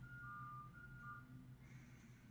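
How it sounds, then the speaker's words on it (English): A faint, steady electronic tone pulses repeatedly over a low engine rumble, like a distant truck's reversing alarm. "it sounds like a truck that's trying to back up with a really weird alarm"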